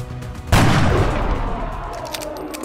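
A single loud sniper gunshot in the XCOM Enemy Within video game, with a sudden blast and a long, rumbling decay that fades over about two seconds, with no voices.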